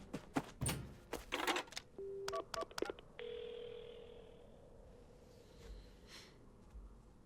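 Telephone dialing in a phone booth in a video game: a quick run of keypad beeps and clicks, then a steady line tone that holds for a couple of seconds and fades into quiet room noise.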